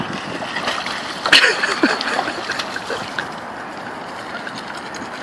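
An English springer spaniel splashes on its first swim, with scattered light splashes and trickling water at close range, a sharper splash near the middle, then softer lapping.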